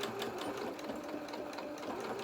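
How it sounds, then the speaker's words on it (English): A domestic sewing machine runs continuously while reverse stitching the lower edge of a fabric lamb doll's head, a steady close rapid whirring rattle with no talk. "we're going to reverse stitch at the bottom here as well"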